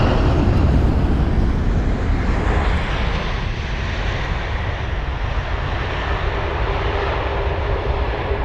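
An American Airlines Boeing 777-200ER, 23 years old, arriving at London Heathrow after a transatlantic flight, its engines giving a loud, steady jet roar with broadband rumble throughout.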